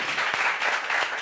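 Short round of applause in an office setting, several hands clapping in a quick dense burst lasting about a second, near and moderately loud with no talk.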